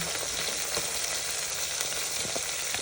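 Green chillies and onion fry in a pan, giving a dense, continuous loud sizzle close by, with a few faint stirring taps and no talk.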